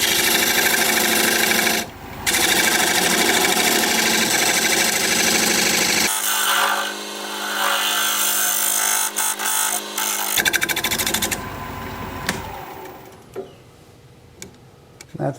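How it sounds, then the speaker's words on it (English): A wood lathe spins while a dovetail turning tool cuts the outside edge of a recess, giving a loud continuous whirring scrape that changes texture partway, drops out briefly, then resumes more lightly and tapers off. "Now I'm going to change to my dovetail tool, put a dovetail on the outside edge of this recess."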